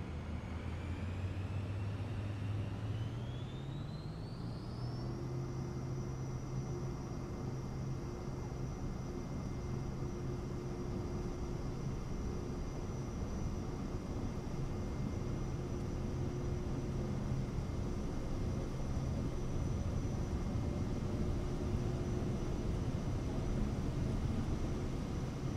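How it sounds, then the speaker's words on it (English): Cirrus Vision Jet in Microsoft Flight Simulator 2020 spooling up for takeoff, a steady loud jet roar with a whine rising over the first few seconds, then holding a constant high tone and broadband rush throughout. "And we are ready for takeoff."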